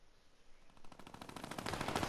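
Rapid automatic gunfire from a shooter video game, bursts growing louder and denser over two seconds with no talking.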